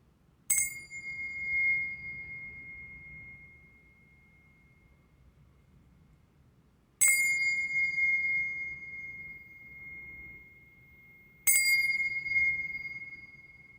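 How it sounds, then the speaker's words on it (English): Three bright bell dings ring out, widely spaced, each one sustaining and slowly fading into quiet between strikes. "you're going to hear 3 dings"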